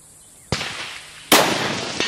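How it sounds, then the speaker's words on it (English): Loud rifle shots at an outdoor precision rifle match in Cawthon, Texas: two sharp, powerful cracks about a second apart, each followed by a rolling echo, then a fainter report. "that's a loud gun"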